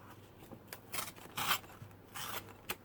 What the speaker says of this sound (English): you're going to start by cutting your paper